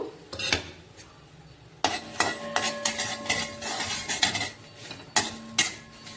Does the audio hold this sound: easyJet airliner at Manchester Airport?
no